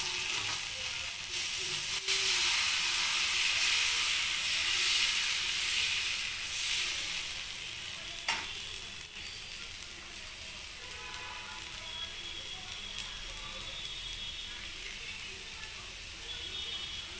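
Pesarattu batter of ground green gram laid onto a hot pan, giving a steady broad sizzle and hiss that runs the whole time, strongest early and easing slightly later, with a faint click near the middle.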